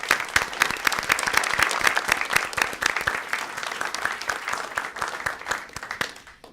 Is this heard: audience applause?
yes